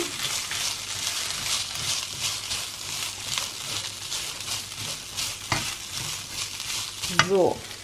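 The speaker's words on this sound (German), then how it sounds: "ich rühre immer den Reis um" Rice being reheated in a pot sizzles steadily while a spoon stirs it in soft repeated scrapes, close and continuous, ending in a brief louder clatter.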